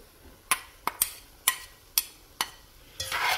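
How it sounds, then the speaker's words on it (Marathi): A spoon clinks against a pot while Kashmiri pulao is gently stirred, giving six sharp, evenly spaced taps close up before a soft scraping swirl. "मी हलक्या हाताने जरा मिक्स करते"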